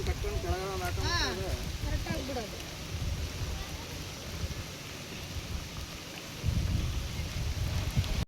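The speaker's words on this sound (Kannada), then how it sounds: "ಇಲ್ಲಿ ತುಂಬ ಮಳೆ ಬರ್ತಿತ್ತಲ್ವ" Steady heavy rain pours down with a dense hiss. Voices speak briefly near the start, and a low rumble of thunder swells toward the end.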